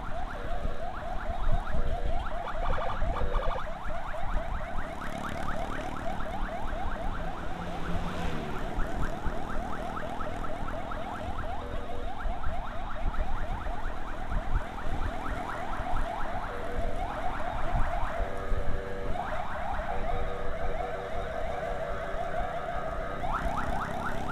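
A loud wailing ambulance siren cycles continuously with rapid warbling sweeps, close by and persistent, layered over rumbling traffic noise, during an escort in Ogan Ilir, Indonesia.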